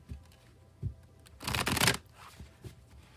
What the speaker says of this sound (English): I'll shuffle till it feels like it's ready, and then we'll cut and deal right off the top.